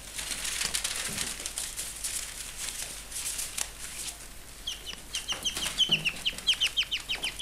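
Penned quails in a German quail-keeping setup give sharp, rapid chirping calls after a bird hopped over a barrier, a run of bright repeated notes building loudly in the second half over a background rustle.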